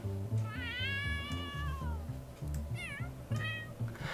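A cat in the video game The Sims 3 meows repeatedly in long, drawn-out musical cries over a steady backing tune, the calls loud and close with short pauses between them.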